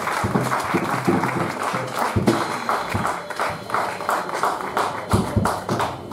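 A church congregation claps in steady rhythmic bursts, the loud, close claps repeating throughout with a busy crowd murmur underneath.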